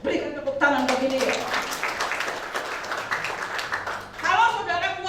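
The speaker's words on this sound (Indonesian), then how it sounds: "berikan tepuk tangan bagi dia" A church congregation breaks into applause, a dense wash of clapping that swells and then fades, with a speaker's voice heard before and after it.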